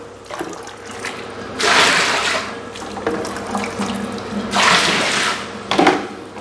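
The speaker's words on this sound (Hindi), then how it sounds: "और तेज़ गर्म पानी इसमें" Hot water gushing from a tap into a hip-bath tub in two strong bursts, with a steadier splashing flow between them, close and loud.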